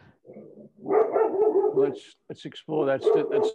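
A dog barks in short, sharp bursts close by, overlapping a person speaking.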